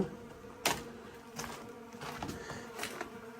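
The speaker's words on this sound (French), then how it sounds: "Nous sommes sur un nid de guêpes, là." Wasps hum continuously around their nest at an old fort on Montenegro's Luštica peninsula, a steady close buzz with a few sharp knocks and taps over it.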